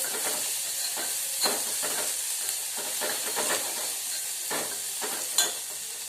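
Tomatoes frying in hot oil in a pan: a steady bright sizzle with repeated soft stirring scrapes and a sharper clink near the end, no voices.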